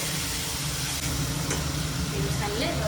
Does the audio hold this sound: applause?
no